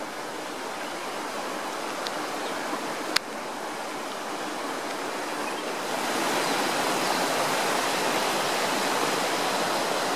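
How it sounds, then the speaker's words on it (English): Running water of Manoa Falls, a waterfall along a rainforest trail, roars as a steady broadband rush throughout, growing a bit louder partway through, with one brief sharp click. "More running water."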